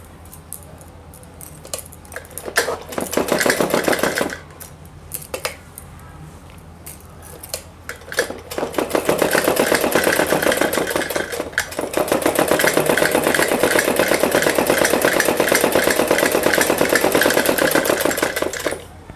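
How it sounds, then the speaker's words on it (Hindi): A sewing machine stitches a plain suit fitting in loud, rapid rhythmic runs, first in short bursts separated by pauses and then in one long, continuous run, heard up close. "यहाँ पर 2 सिलाई लगाएंगे।"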